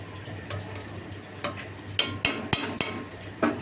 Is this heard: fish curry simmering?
yes